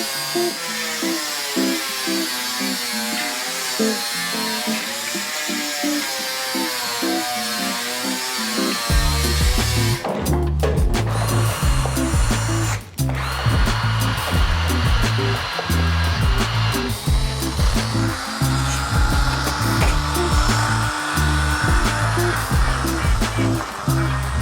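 A power polisher works an aluminium Honda K series valve cover, starting as a steady high whine and then turning into a louder, rougher buzzing grind with brief dips, continuous and close.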